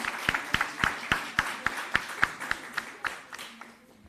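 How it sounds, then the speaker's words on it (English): Scattered, fairly sparse clapping from a small audience at a national health research conference, applauding the presenters after a session; a dozen or so distinct claps that thin out and fade toward the end. "Give another round of applause to our presenters."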